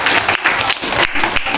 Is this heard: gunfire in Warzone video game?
no